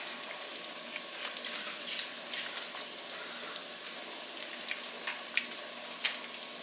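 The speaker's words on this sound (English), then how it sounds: "Give that a good stir." Milk-based sauce with bacon and pepper bubbling and sizzling in a pan while being stirred, soft continuous hiss with small scattered clicks and pops, fairly quiet, no talking.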